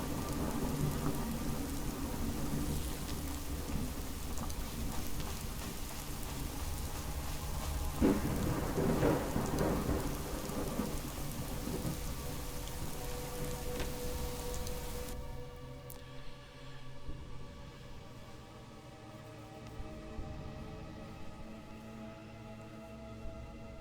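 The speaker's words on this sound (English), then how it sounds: "that storm broke out all of a sudden" Thunderstorm with rain in the video game Fallout: London: a dense, steady hiss of rainfall under rolling thunder, with a loud rumble building midway before the downpour thins to a quieter patter with softer distant rumbles.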